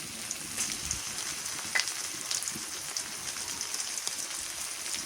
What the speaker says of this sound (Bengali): ভাজা হয়ে গেছে রসুন বাটা দিয়ে দিই